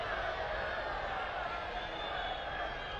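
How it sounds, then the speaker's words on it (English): Stadium crowd noise at a professional soccer match, FC Tulsa against El Paso Locomotive, a steady broad murmur of disapproval after a player's awkward fall, with commentary talk over it throughout. "Crowd aren't happy, but it was a bit of an awkward fall."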